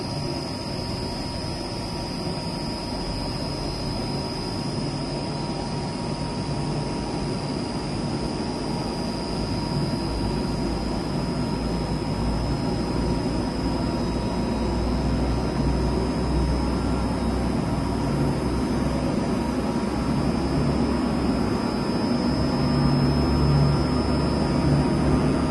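A Karvil 6000L industrial ribbon blender runs at its top speed, giving a dense, continuous mechanical roar with a steady high whine on top, loud and unchanging throughout.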